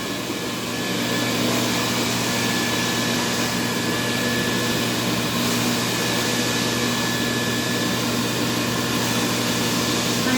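A vacuum cleaner fitted with a Devastator swivel wand runs without a break, a loud, steady whooshing drone with a faint whine, starting up at the beginning and then holding an even level alone.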